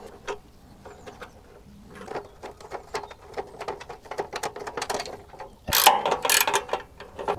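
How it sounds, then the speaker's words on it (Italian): A ratchet wrench loosening bolts on a motor hoe, rapid clicking ratchet strokes coming in irregular bursts, close and growing louder, with a sharp metallic clank near the end. "abbiamo smontato questi due bulloni corti sotto e il bullone grande sopra quello più lungo"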